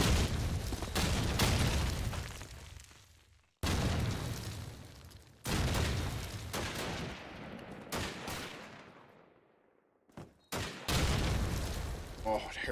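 Explosions and gunfire in a competitive video game match, with a grenade blast among repeated loud bursts, each cutting off abruptly between rounds of rapid shots and booms.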